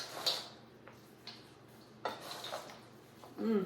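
Green bean casserole ingredients being mixed in a dish, with scattered spoon clinks and scrapes against the dish in short irregular bursts, quiet and close, with no talking.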